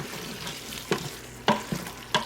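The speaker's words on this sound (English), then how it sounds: "Add our bay leaf and thyme, and we will stir that up" Beef stew meat in thick sauce, with bay leaf and thyme, is stirred in an Instant Pot: four distinct scraping spoon strokes over a low, steady simmer.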